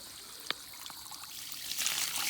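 A hose runs water into a newly installed septic tank, a soft trickling and splashing stream that grows a little louder toward the end, heard close with no talking.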